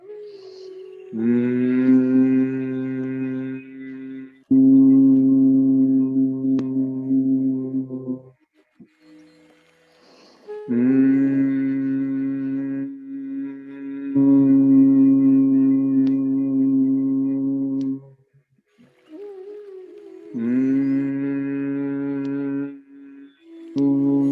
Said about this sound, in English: breathing out while making a humming sound